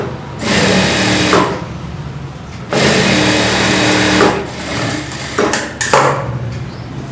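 A sewing machine runs up close and loud, stitching a folded border on blouse fabric in three sustained whirring bursts, the first two about one and a half seconds each with short pauses between, the last shorter and choppier.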